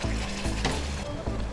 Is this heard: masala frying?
yes